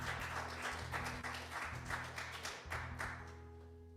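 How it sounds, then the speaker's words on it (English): Applause from a small crowd at an open mic night, moderate clapping in uneven bursts over a steady low hum, tapering slightly toward the end. "One more round of applause for Jimmy and Chris"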